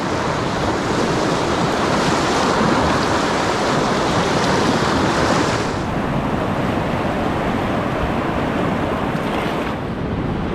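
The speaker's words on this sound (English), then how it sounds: "there is a really nice swell coming in" Ocean swell rolls in on the shore while a falling tide drops, a loud, continuous wash of surf with heavy wind buffeting the microphone, no voices.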